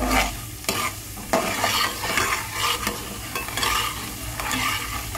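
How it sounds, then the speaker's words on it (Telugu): Ingredients for rice rava upma frying in a pan, a continuous sizzle broken by several sharp scraping stirs of a spoon against the pan at irregular intervals, close and loud, without talk. "అవి కూడా వేయించుకోవాలండి."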